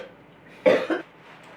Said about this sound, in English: Have we finished coughing?